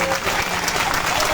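A crowd at a public rally in Madhya Pradesh breaks into loud, dense applause, steady clapping filling the whole short moment.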